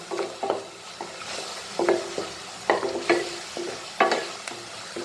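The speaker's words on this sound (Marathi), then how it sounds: "आता हे सर्व मस्त असं परतून घ्यायचं. अगदी तेल सुटेपर्यंत परतवायचं." Masala paste for shev bhaji sautéing in oil, a spatula scraping and stirring in repeated strokes about every second over a soft background sizzle, close and clear with no talking.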